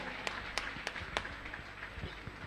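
Audience at a religious gathering giving a handful of sharp, distinct claps that soon fade into a thinner, scattered patter, fairly faint and somewhat distant, with no one speaking over it.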